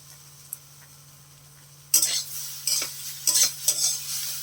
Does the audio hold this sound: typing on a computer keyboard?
no